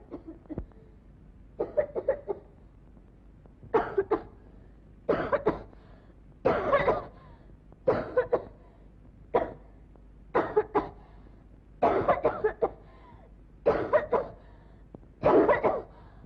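A woman coughs in repeated harsh bursts, about a dozen spaced fits of coughing, close and fairly quiet against a silent background.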